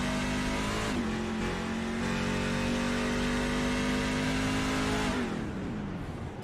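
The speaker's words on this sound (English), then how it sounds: "Clutch is in. Truck just idling." Race truck in a Mid-Ohio truck series event coasting into a turn with the clutch in, engine dropping to a steady, loud idle drone with a falling pitch, heard up close from on board without talk.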